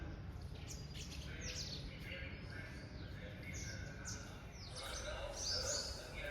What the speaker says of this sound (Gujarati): ચકલા